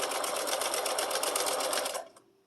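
A sewing machine stitches binding onto a mini quilted wall hanging, a loud, close, rapid steady whir of needle strokes that runs for about two seconds and then stops abruptly.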